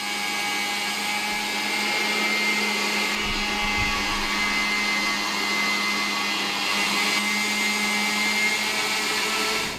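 A hand-cranked pasta roller flattens fresh pasta dough at its widest setting, a steady continuous mechanical whir with a low hum running unbroken throughout, fairly loud and close, with no talking.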